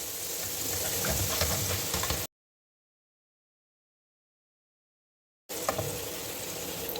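Nimko fries in hot ghee with a close, steady sizzle and crackle, heard in two stretches separated by a gap of complete silence.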